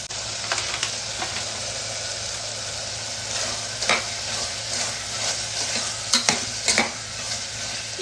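Chopped vegetables frying in a pan for vegetable biryani, a steady hiss of sizzling oil punctuated by occasional sharp scrapes and clatters of a stirring spoon, louder toward the end, close and with no talking.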